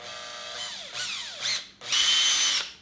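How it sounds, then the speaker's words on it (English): A power drill whirs in several short bursts, drilling slowly in a kitchen, its pitch rising and falling as the trigger is eased, ending in a longer high-pitched run. "I'm going to drill very slowly."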